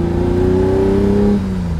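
A 1968 Ferrari 365 GT 2+2 "Queen Mary" with its V12 engine revs steadily and loudly up close, the pitch holding, then easing off near the end of the short burst, with no talk.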